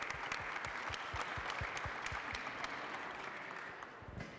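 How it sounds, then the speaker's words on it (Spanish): Applause from the audience at a book presentation in Guadalajara, a steady dense clapping that runs throughout and thins slightly toward the end. "un aplauso para todos ellos"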